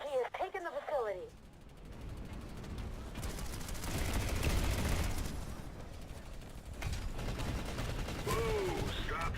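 Gunfire in a first-person shooter video game: a broad sustained burst of shots and clatter running through the middle of the clip, moderately loud, with game voices and effects at the start and end.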